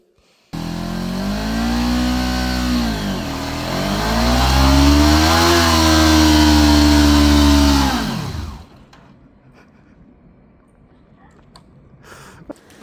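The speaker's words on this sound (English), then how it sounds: "So that was my kind of weak attempt at a burnout, my first burnout on the bike" A motorbike engine revs hard through a burnout, a loud sustained roar that dips, climbs again and holds high for several seconds before cutting off, leaving quiet ambience and faint rustling.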